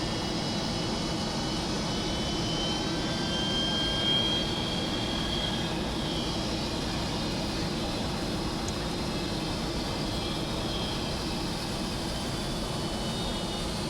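The Victor bomber XL426 roars through a high speed taxi run on a runway with its jet engines howling, a steady, broad, continuous rush of engine noise heard from a distance and unbroken for the whole stretch, with no voices.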